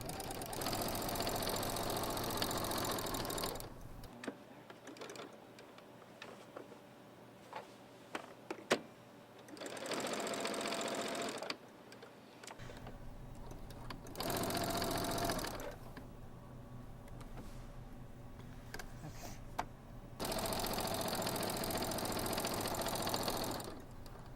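Sewing machine stitching a throw pillow with a quarter-inch seam, three or four bursts of steady close whirring separated by quiet pauses with small clicks and handling sounds.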